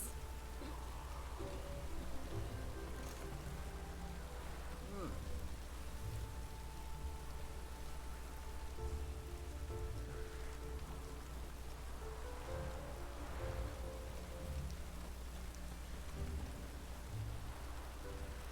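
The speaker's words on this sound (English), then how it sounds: "It's raining buckets." Heavy rain in the video game Witcher 3, a steady, dense downpour hissing continuously at low level, with faint low rumbles mixed in and no talk over it.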